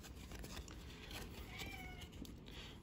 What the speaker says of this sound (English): there you can hear one of the cats making noise in the background